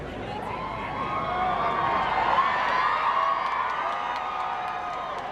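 Crowds outside Windsor Castle cheer ahead of Prince Harry and Meghan's royal wedding, a swelling roar of cheers and whoops from a large outdoor gathering, sustained and somewhat distant.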